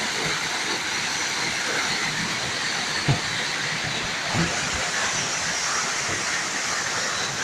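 A waterfall roaring as a steady, dense wash of broadband rushing noise, loud and constant throughout, with a couple of faint knocks briefly audible above it.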